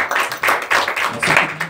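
A church congregation applauds a theater team with a few brief bursts of clapping, close and fairly loud, with no talk over it.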